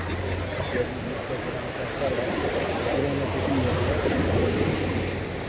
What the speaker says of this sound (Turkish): Dalgalar çok büyük olduğundan dolayı yüzmek imkansız.